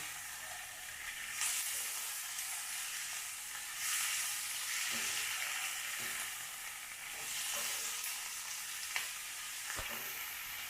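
Onions and two tomatoes fry in a pan for an onion chutney, a faint, steady sizzling hiss with occasional soft scrapes of stirring.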